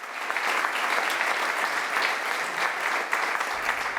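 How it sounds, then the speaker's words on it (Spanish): Audience at an agricultural science talk applauds as speaker José Miguel Mulet is introduced, a steady, dense clapping from a crowd that holds evenly for about four seconds. "Le damos un fuerte aplauso a él."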